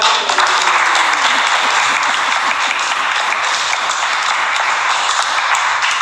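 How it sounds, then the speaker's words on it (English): A small group of wedding guests applauds during the ceremony, a steady, fairly close patter of clapping that carries on evenly for several seconds without talk. "Small round of applause, well done."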